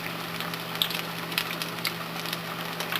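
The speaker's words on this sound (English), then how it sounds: "We're going to let them fry for a little bit on that side." Eggplant fritters in batter fry in hot oil, a soft, steady sizzle with faint crackles and pops scattered over a constant low hum, fairly quiet and without talk.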